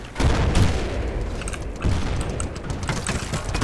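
A grenade explosion in the video game Battlefield 2: a loud, dense blast with booming low end and a rumbling, crackling tail that carries through the whole stretch amid scattered gunfire-like bursts.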